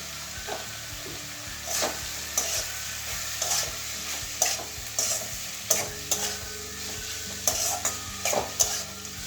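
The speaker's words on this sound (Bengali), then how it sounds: "একটু ভালো করে মিশিয়ে নিচ্ছি" Bitter gourd cooks in a pan with mustard paste and Kashmiri red chili powder, stirred with repeated scraping and clinking strokes over a soft continuous sizzle and a low background hum. No voices are heard.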